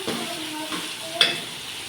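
Ground sambar powder, coriander powder and turmeric sautéing in a pan for tomato sambar, giving a steady soft sizzle with light stirring scrapes and a brief louder stir near the end, with no talk.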